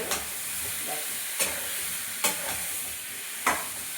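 Taro chunks fry in a spiced pan with a steady, close sizzle, broken by a few sharp scrapes and clatters as the pieces are stirred around about every second or so.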